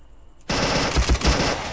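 Rifle fire in the video game Zomborg erupts suddenly after a quiet moment, a rapid close burst of several heavy shots with a sustained roar, with no talking over it.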